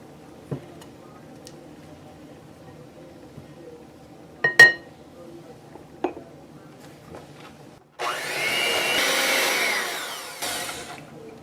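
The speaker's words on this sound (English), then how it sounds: "I don't want to blend it for too much more" Blender whirring through cheesecake batter for a caramel apple cheesecake, a steady broadband motor whine running about three seconds near the end after scattered clinks and scraping.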